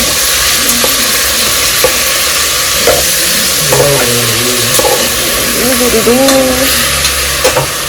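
Mutton biryani being stirred and fried in a pot, with a steady sizzle beneath repeated scraping strokes of a spoon against the pot, close and continuous, and a few faint scattered voice sounds.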